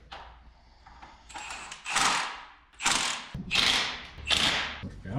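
Ratchet clicking in several short bursts while cinching down mounting hardware on a 12-valve Cummins engine prepared for a body swap, close and fairly loud in a garage setting.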